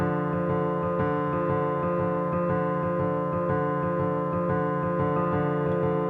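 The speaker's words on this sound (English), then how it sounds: "This is just a piano I played, and it just sounds like this." Sustained piano part from a song, a steady stream of held chords ringing evenly and fairly softly throughout, with no talking.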